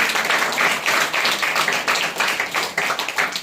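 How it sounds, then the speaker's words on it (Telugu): A church congregation claps in steady, rhythmic unison, a continuous even patter of many hands that carries on throughout at moderate loudness. "ఈ మాట చెప్తే చప్పట్లు కూడా దేవుణ్ణి కనపరచాలి."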